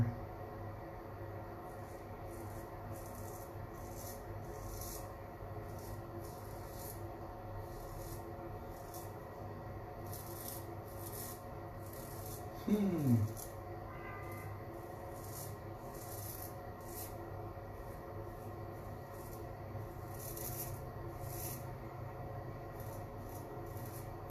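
Straight razor shaving a face on the final pass against the grain, a quiet steady scraping rub running continuously with one brief louder stroke midway.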